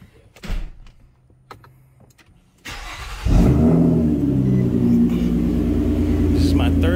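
A 2009-2014 Nissan Maxima with a newly fitted serpentine belt cranks and fires, then settles into a steady, loud idle close by, after a few faint knocks and a click beforehand.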